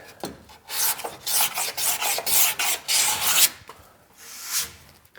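A No. 4 hand plane set for a heavy cut takes quick shavings off a wooden bevel while cold-moulded boat planking is being fitted. Loud, close, rasping strokes come in a steady rhythm, then taper off into a couple of lighter passes, with no speech.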